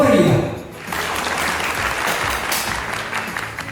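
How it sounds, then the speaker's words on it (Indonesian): Lively applause from an audience at an MC school session in Surabaya, a dense steady wash of many hands clapping close by that follows a brief tail of voice at the start. "Beri semangat atau tepuk tangan yang meriah."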